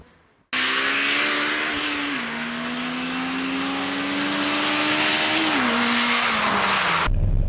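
A Renault Megane R26 is driven at a steady clip, its engine droning in a constant, loud hum heard from inside the cabin, with slight pitch shifts as the revs change.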